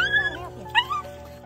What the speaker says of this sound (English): It's heartbreaking to hear the dog's painful moans while being trapped